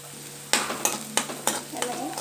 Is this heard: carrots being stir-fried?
yes